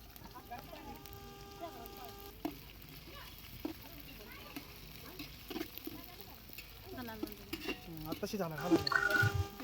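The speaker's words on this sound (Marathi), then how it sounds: "अद्रक लसूण हे भाजताना आपल्याला जो जाळ आहे तो एकदम हलक्या स्वरूपात ठेवायचा आहे" Ginger garlic paste frying with onions in a pan on a low flame for biryani, soft sizzling with stirring scrapes that grow louder toward the end, under someone talking.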